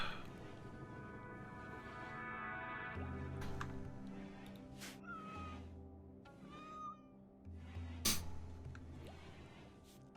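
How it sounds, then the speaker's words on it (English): Two cats in the video game RimWorld meow repeatedly over a steady game music bed, with the meows coming in scattered bursts across the stretch, some drawn out and plaintive, one sharp high cry near the end. "all you hear at the slower speeds is just the two cats meowing away"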